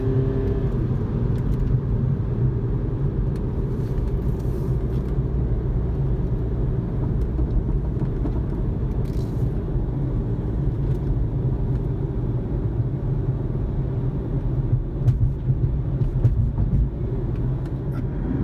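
An Audi A3 accelerating with the throttle floored, a steady loud engine drone and road rumble heard from inside the car, continuous and without voices.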